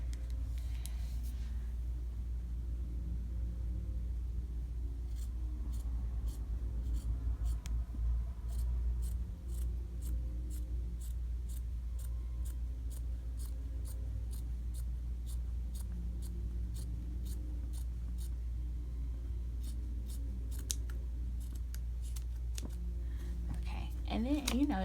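Scissors make a series of regular, faint snips straight across a t-shirt being turned into a dress, over a steady low hum.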